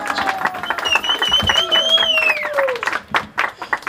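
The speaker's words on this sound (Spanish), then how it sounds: "El aplauso bonito para ella que se escucha." Applause at a fifteenth birthday celebration with a juvenile mariachi band, a dense patter of clapping from the gathered crowd that thins toward the end, with a voice and a sustained musical tone running over it.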